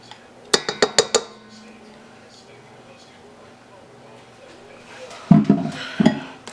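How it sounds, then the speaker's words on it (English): A spatula scrapes the last butter out of a mixing bowl while making a 7 UP pound cake. Four quick clinks come first, then a lull, and two close, rough scraping strokes follow near the end. "Scrape the rest of that butter off in the bowl."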